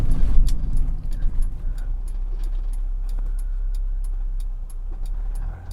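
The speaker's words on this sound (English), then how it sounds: "I really do enjoy driving my little stock Integra" A stock Acura Integra drives on after a rev-matched downshift, its engine rumbling steadily close by from inside the cabin, with a louder surge at the start and small rattles and ticks over the drone.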